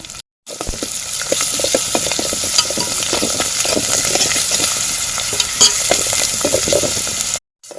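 Onions frying with ginger paste for mutton curry in a pan over a wood-fired village stove, a loud, continuous close sizzle mixed with stirring scrapes that runs steadily between short silent gaps at each end.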